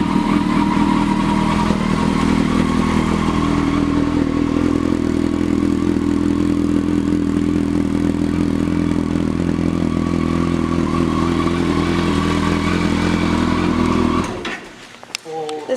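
A 2011 Kawasaki Concours 14 ABS sport-touring motorcycle engine idles steadily and loudly close by, a continuous low rumble that cuts off near the end.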